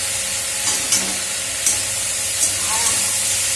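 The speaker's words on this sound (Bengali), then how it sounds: "আর এই যে চালিয়ে দেবো আলু ভাজাটা" Potatoes fry in a pan with a loud, continuous hiss of oil and a few brief scrapes as they are stirred, close up, with no voices.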